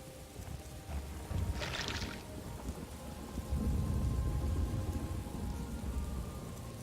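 Rain pours steadily in the Morrowind video game, a constant hiss with low rumbles that could be thunder and a brief brighter splash partway through, with no one speaking.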